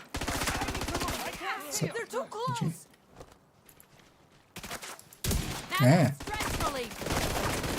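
Rapid automatic gunfire in a shooter game, sharp dense bursts near and loud at the start and again later, separated by a quieter gap, with someone talking briefly in between.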